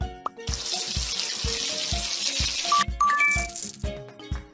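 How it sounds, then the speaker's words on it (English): Shower water running steadily in a kids' jungle animal hair salon game, a bright hiss over a rhythmic musical backing with chiming notes and a pop near the end. "Shower time."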